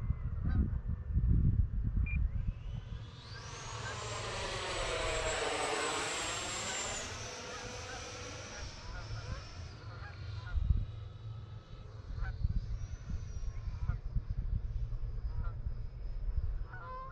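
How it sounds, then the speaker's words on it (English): Geese honk loudly over the rising and falling engine whine of an E-flite F-16 Falcon model jet, with scattered calls in the second half. "Oh, damn geese."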